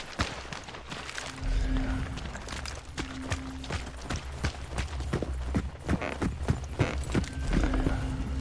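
Hooves clip-clop steadily as horses trot along, with a repeating rhythmic beat over a low rumble and occasional sharper thuds, moderately near.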